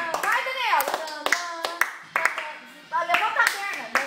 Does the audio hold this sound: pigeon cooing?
no